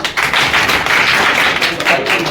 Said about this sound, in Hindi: ताली मारो जी